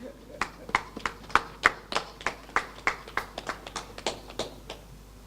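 An audience claps for the Minister at a Jamaican farmers' event on cannabis production: a sparse, uneven round of separate hand claps that stays moderately loud throughout.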